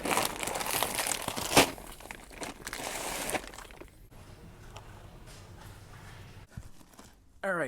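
Tape is pulled off the roll and pressed around a space during a garage-to-home conversion, with crinkly, tearing bursts that are loudest early on, then quieter handling for the rest.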